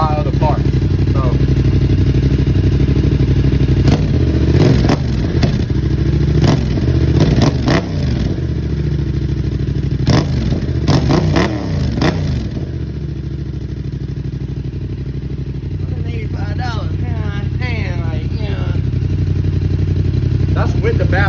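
A Yamaha MT-07 with an aftermarket Amazon exhaust, baffle in, idles and revs nearby with a loud, steady engine drone and a few sharper throttle blips, while someone talks over it.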